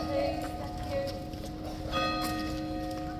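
Horses' hooves clip-clop on the ground at Horse Guards in London, a steady nearby clatter over a busy outdoor crowd, with a bell ringing faintly in the background.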